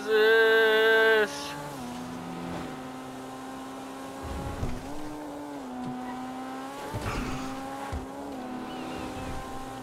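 A Karin S95 sports car in GTA 5 accelerates at over 140 mph after an opening high-pitched tonal burst, its engine note droning and rising through gear shifts with brief dips, steady and fairly loud.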